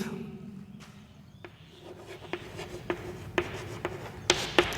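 Chalk taps and scratches against a classroom board as a teacher writes out a sentence, faint at first, then a string of sharper knocks and short strokes growing clearer toward the end, with no talking.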